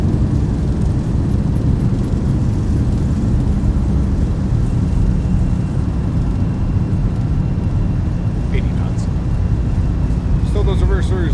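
Boeing 737-700 thrust reversers roaring during landing rollout in X-Plane 11, a loud, sustained engine rush with deep rumble that stays steady throughout, joined by faint clicks and tones toward the end.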